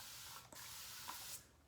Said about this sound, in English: Here, let me get my spray bottle.